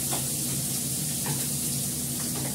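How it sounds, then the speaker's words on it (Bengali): Onion and green chili paste frying in a little oil, a steady close sizzling hiss running continuously with a few brief louder spits, no talking. "তেলটা দিয়ে দিলাম, এর মধ্যে দেবো পেঁয়াজ, পেঁয়াজ আর কাঁচা লঙ্কা বাটা, অল্প তেলে করবো।"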